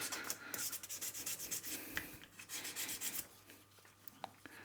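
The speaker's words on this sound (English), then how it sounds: "Scuffing up the bushing with some 400 grit emery cloth." A metal bushing is scuffed with 400 grit emery cloth in a machine shop, giving repeated close, rhythmic rubbing strokes of abrasive scraping.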